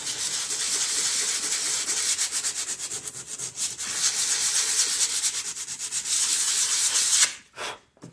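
Glazed brake pad being sanded by hand with sandpaper during restoration, a steady dry rubbing scrape that continues for about seven seconds before stopping abruptly, close and loud with no talking.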